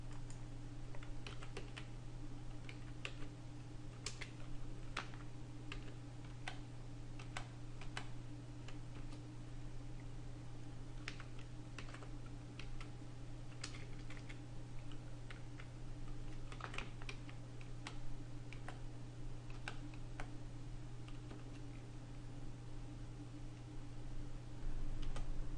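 Someone types a password on a computer keyboard, a run of faint, irregular key clicks over a low steady hum of background equipment.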